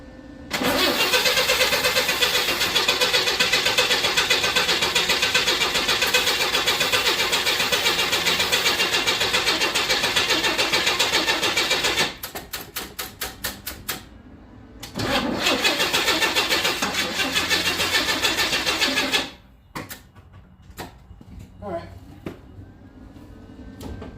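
A 1961 Chevy Bel Air with a newly replaced carburetor cranks for a long, steady stretch without catching. After a brief gap with short stutters, a second cranking burst follows, then it goes mostly quiet with a voice heard briefly.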